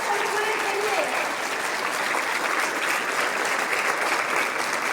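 Sustained, dense audience applause at a formal gathering with an address, steady and loud throughout with a faint voice briefly audible near the start.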